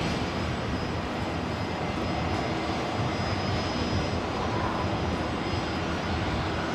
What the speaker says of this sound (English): I've just spotted the special livery, one of the special livery Fokkers